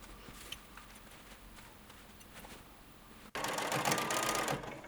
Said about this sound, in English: Blind hem using the blind hem stitch and foot on your machine